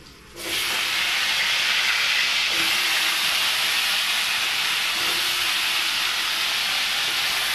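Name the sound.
potatoes frying in oil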